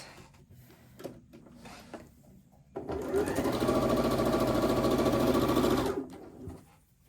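A sewing machine stitches quilt block seams at a short stitch length, a steady close whirring run of about three seconds after a few faint handling clicks, then stopping.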